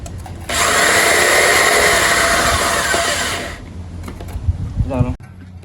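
A power drill bores into light steel with a loud, steady whirring grind lasting about three seconds, then winds down as people start talking nearby.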